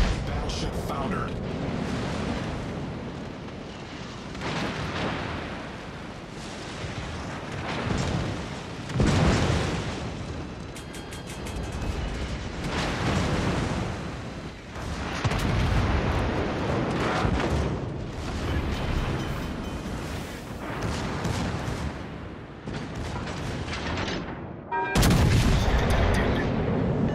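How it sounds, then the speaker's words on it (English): Naval battle in a video game with a burning, sinking battleship: repeated booming artillery blasts and explosions roll through a dense, loud barrage, with a voice speaking over the din. "Ship is on fire. Battleship foundered."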